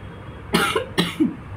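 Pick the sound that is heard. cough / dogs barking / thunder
cough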